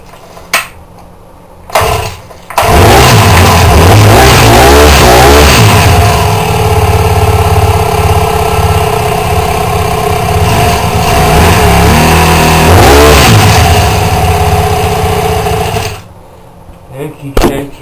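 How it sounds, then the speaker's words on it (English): A small four-stroke engine in a workshop starts after a couple of short bursts, runs loud and steady at close range for about thirteen seconds with slight revving, then shuts off. "Now the only 4-stroke smaller engine."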